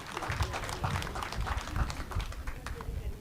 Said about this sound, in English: So let's give NHE a round of applause